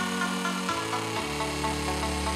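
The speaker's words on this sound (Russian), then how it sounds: "Да, еще прикол, что глыба очень трудно поддается сверлению." Power drill fitted with a large hole-cutting bit boring into a huge block of plain ice, running by a generator outdoors; a steady loud grinding whine that drops in pitch twice as the bit bogs down in the ice.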